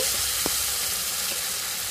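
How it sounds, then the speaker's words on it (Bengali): Chopped onion and tomato hiss and sizzle in hot oil tempered with bay leaf, cumin seeds and dried red chili, a steady close-up fry with a couple of brief stirring scrapes. "সাদা জিরে শুকনো লঙ্কার ফোড়ন দিয়ে দিতে হবে এবার এর মধ্যে পেঁয়াজ কুচি টমেটো কুচি"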